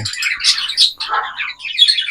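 African lovebirds in a breeding cage chirp in quick, high, bright bursts, several overlapping calls close by with short gaps between them, no voices.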